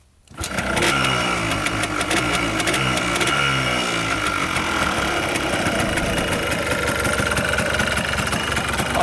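A Yamaha Blaster engine catches and settles into a steady, loud idle with a rough, rapid two-stroke putter, close by and heard alone without talk.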